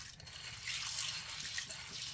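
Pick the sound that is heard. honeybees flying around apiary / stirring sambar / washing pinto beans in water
washing pinto beans in water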